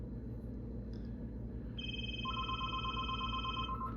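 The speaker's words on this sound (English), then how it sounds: "And the phone rings." A phone rings, steady electronic ringing tones that start partway through and hold over a constant low rumble from the room.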